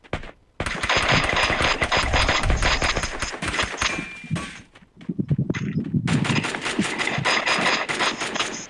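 Rapid automatic gunfire in a Free Fire custom room match, loud close bursts of fast shots broken by a short pause, then more sustained firing.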